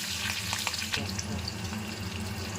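Crushed garlic and chopped green chili hit hot oil for a greens stir-fry, crackling and spitting loudly and close up in a dense, steady sizzle.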